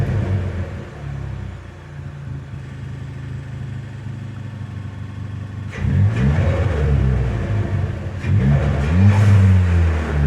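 A Ford Fiesta ST fitted with a DNA Motoring exhaust idles with a low steady rumble, then revs up in two loud bursts with rising and falling engine tones, heard close and without talk.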